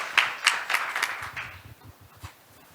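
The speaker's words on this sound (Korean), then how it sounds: "큰 박수로 환영해 주시기 바랍니다." An audience at a conference session claps to welcome a speaker, a short burst of applause that starts with distinct claps and fades away within a few seconds.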